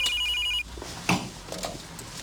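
A telephone rings with a bright, electronic-sounding trill for about half a second, then cuts off abruptly, leaving only faint room noise and a soft knock afterward.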